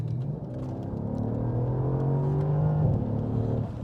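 The V8 engine of a Mercedes-Benz S 63 AMG coupe (C217) revs and accelerates hard from 50 to 120 km/h, its tone climbing steadily before a brief shift near the end, loud and close with no voices.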